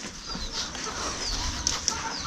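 Faint hen clucking in an open farmyard, a few soft calls scattered over steady outdoor background noise.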